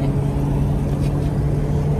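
Steady road traffic heard from inside a car on a highway, a constant low engine and road hum at even loudness throughout.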